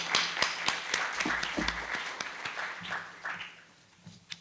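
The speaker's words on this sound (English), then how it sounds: "Please extend a warm welcome to Mr. Andre with a round of big applause." An audience at a university funding session in Seoul applauds to welcome a presenter, a short spell of dense, close clapping that thins out and fades toward the end.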